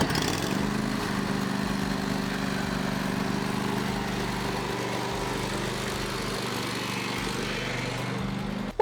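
A steady, droning small engine runs continuously at close range, with a constant hum and no breaks, like a lawn mower at work.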